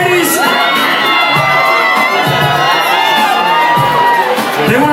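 A nightclub crowd at a male revue screams and cheers loudly and continuously, high-pitched whoops and shrieks of many women layered together, with voices shouting within the roar.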